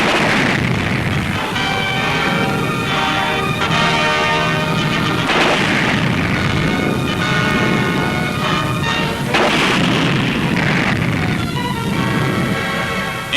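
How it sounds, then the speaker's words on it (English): A WWII Canadian army tank barrage near Emmerich, Germany, in 1945 fires in dense, continuous booming thuds with rolling rumble and crackle that never pause. "A tank barrage supports the move."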